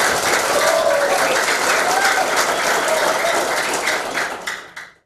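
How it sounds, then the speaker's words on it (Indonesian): A crowd at a millennial declaration rally in NTB for Prabowo-Sandi bursts into loud, dense applause that holds steady, then tapers off and stops near the end. "Sekali lagi saya minta tepuk tangan untuk teman-teman semua"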